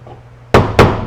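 A hammer head meets drywall screws on a wall, giving two sharp, close knocks about a quarter second apart, with no talking.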